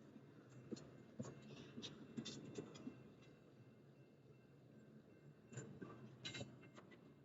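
A slow northbound Union Pacific intermodal freight train rolls past at Stassney Lane with a low, steady rumble and intermittent clanks and rattles from the cars. It sounds moderately distant and fairly quiet, with no talk.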